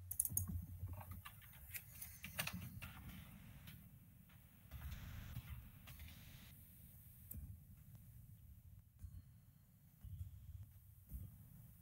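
Someone types on a computer keyboard, with quiet bursts of clattering keystrokes and pauses between them, recorded close and faint with no one talking.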